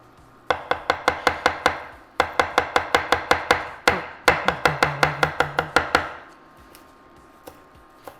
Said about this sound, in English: I love chopping fresh herbs